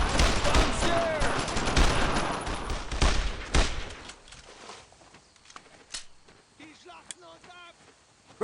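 Dense bursts of rifle and machine-gun fire from the WWII shooter Brothers in Arms: Road to Hill 30, loud and overlapping for several seconds, then thinning to scattered shots while a voice shouts orders.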